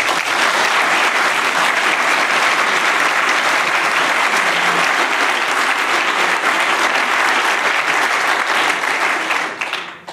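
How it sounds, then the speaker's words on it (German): Steady, full applause from an audience at an academic ceremony founding Geisenheim University, honoring the evening's musical band; loud and continuous for about ten seconds before tapering at the very end. "Ich denke, das ist ein besonderer Applaus wert."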